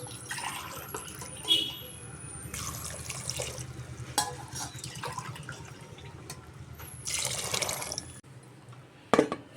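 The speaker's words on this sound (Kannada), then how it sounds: "ನೆಕ್ಸ್ಟು ನಾನು ಇಲ್ಲಿಗೆ 6 ಗ್ಲಾಸ್ ನೀರು ಸೇರಿಸ್ಕೊಳ್ತೀನಿ ನಾನು." Six glasses of water are poured one after another into a cooking pot of bisibelebath with salt, making several separate splashing pours with short pauses between them, fairly close.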